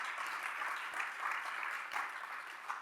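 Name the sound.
audience applause for speaker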